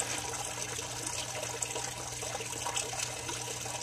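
Water pumped through solar heating coils of an aquaponics system, heard as a steady, faint, continuous flowing and trickling wash with a low hum beneath and no voices.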